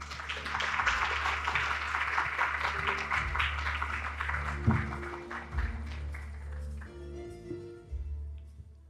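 Audience applause welcomes a speaker at a Korea-US industry and technology cooperation forum, a sustained crowd clapping that carries for several seconds before thinning out near the end.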